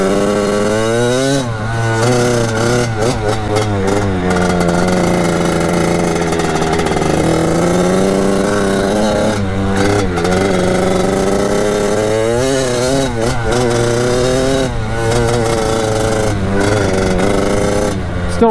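Kawasaki KX80 big bore two-stroke dirt bike engine running close up and loud, its buzzy revs rising and falling repeatedly as the throttle is blipped, staying above a constant idle with no talking.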